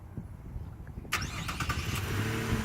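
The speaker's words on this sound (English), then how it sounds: "you can start it up from the remote without needing to put the key in the ignition" A 2016 Chevy Colorado pickup truck starts by remote: quiet background, then a sudden crank as the engine catches and settles into a steady nearby idle.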